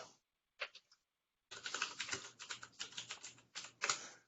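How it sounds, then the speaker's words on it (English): Rapid typing on a computer keyboard, two brief clicks first, then a steady run of close key presses in irregular bursts with no talk. "Okay, so let me type the topics."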